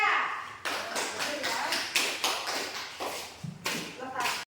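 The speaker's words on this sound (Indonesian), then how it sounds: "Silakan tepuk tangan untuk kelompok 3." A classroom of students applauds a student group with irregular bursts of claps and taps, close and fairly loud, with a brief pause partway through.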